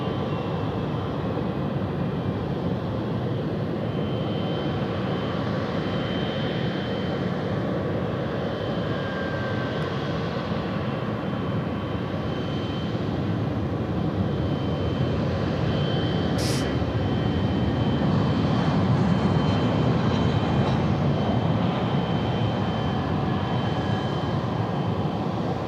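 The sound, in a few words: Emirates Boeing 777 jet taxiing into bay at night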